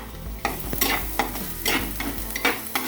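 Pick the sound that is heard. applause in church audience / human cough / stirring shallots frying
stirring shallots frying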